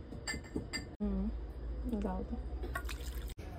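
Boneless chicken being washed by hand in a vessel of water, close sloshing and splashing with light clinks against the container, under a voice talking throughout.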